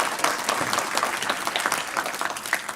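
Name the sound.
audience applause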